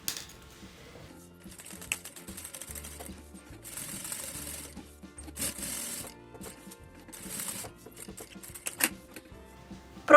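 A sewing machine topstitches around the edge of a small handmade wallet, running in quiet bursts of rapid stitching with short pauses and faint handling noises between them.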